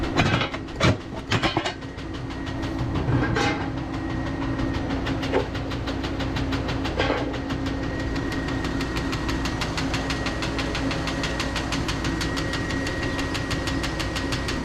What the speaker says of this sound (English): So this big long auger is just turning real slow and dropping it into the flex auger that's taking it to the mill.